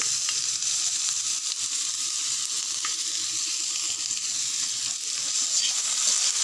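Potatoes fry with salt and turmeric in a pan for a Bengali radish-greens chorchori, giving a steady, close, continuous sizzle with faint stirring and no voices.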